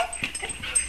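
A dog whimpers and gives short yips in a close, brief burst while fireworks are going off in the neighborhood.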